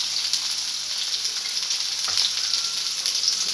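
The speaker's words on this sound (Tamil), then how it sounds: "வெங்காயம் வதங்கட்டும். ஒரு தக்காளி சேர்த்துக்கலாம்." Onion, tomato and ginger garlic paste sautéing in a pan for a soya gravy, a steady close crackling sizzle with small pops, alone with no talk.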